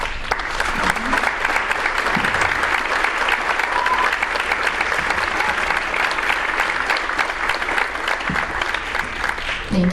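Sustained applause for graduating seniors standing at a high school spring concert in Rhinebeck, a dense, steady wash of many hands clapping throughout at even loudness.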